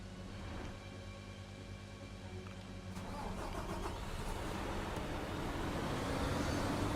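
A dump truck engine in Construction Simulator 2 cranks and catches around the three-second mark, then settles into a steady, building mid-range rumble that grows slightly louder toward the end, with no voices.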